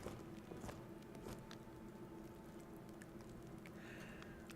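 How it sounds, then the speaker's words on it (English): Footsteps of a character walking in Skyrim Special Edition, a soft, quiet, irregular patter of steps over a steady game ambience with no talk. "I need to find that footstep sound effect and get rid of it."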